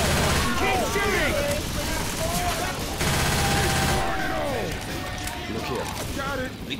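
Heavy gunfire fills a Left 4 Dead 2 match in a burst of continuous rapid shots and explosions, with players shouting and talking over the din throughout.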